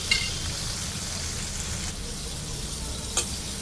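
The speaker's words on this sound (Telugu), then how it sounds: "కొంచెం సాల్ట్ వేసి వేయించుకోవాలి ఇంకా కొద్దిగా వేయించుకుంటే సరిపోతుంది" Green chilies and mint with a pinch of salt fry in a pan, a soft steady sizzle and crackle with a faint clink of utensil, alone and quiet throughout.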